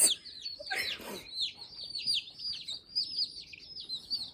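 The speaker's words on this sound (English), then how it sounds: "I got more baby chickens." Baby chickens peep and chirp continuously in high, rapid bursts, with a rustle near the start.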